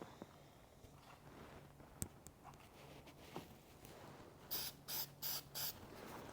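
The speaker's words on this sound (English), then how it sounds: "When you're touching up, you just want to do a quick light coat" Plasti Dip aerosol hisses in four short, quick bursts through a cardboard slit for a light touch-up coat, following faint handling clicks and a quiet background.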